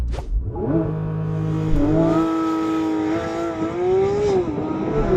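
Porsche 911 GT3 launching hard from a standstill, engine revs climbing through rising gears with short shift dips, loud and close with no talk.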